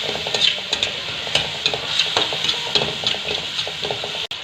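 Onions frying in a pan while being stirred, with repeated scraping strokes over a continuous sizzle, close and moderately loud, ending with a brief clunk.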